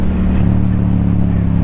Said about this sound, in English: you've heard the Yoshi exhaust, and I'm running no baffle